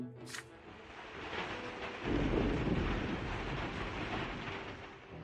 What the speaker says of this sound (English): It is a rainy day today